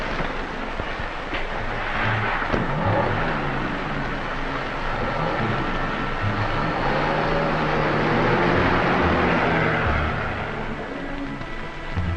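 A car driving along a street, a steady broadband rumble of engine and road noise held close and continuous throughout, with no talking.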